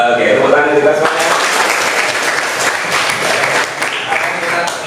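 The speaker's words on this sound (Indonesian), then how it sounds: "tepuk tangan kita semuanya" A classroom of students claps together in loud, dense applause, with some voices mixed in, fading slightly toward the end.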